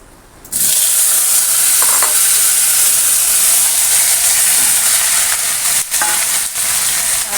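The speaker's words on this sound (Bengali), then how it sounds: "এই যে কড়াই দিয়েছি পাঁচ ফোড়ন আর সামান্য তেল দিয়েছি" Panch phoron hits a little hot oil in a karahi after a brief quiet moment, erupting into a loud, close, sustained sizzle and hiss that carries on steadily with a couple of short dips near the end.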